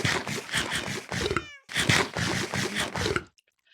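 Cats meow repeatedly in a Minecraft cat sanctuary in the video game, with a steady run of close, fairly loud meows broken by a short pause before the meowing picks up again.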